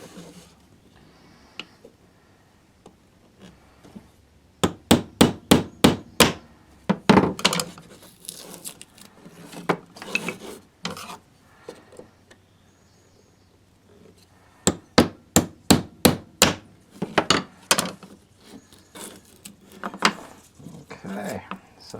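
A hammer taps a chisel between glued wood pieces of a woodturned Christmas tree ornament to split them apart, sounding as two rapid bursts of sharp, loud strikes, each run of a dozen or so blows separated by quieter pauses.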